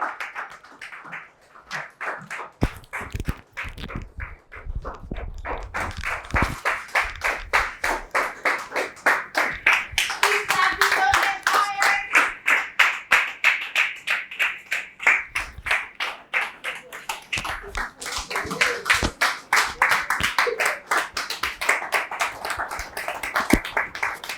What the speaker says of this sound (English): Keep clapping till you see him come up.